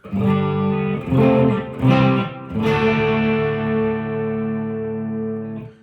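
A clean electric guitar plays a few short chords through a Marshall Origin amplifier and 1x12 cabinet, then a final chord rings out and sustains with a room-like tone.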